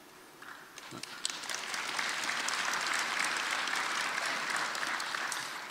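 Audience at the 2020 MCN inaugural address breaks into applause, starting light and swelling into sustained, steady clapping from a crowd that fills the room for several seconds before easing slightly.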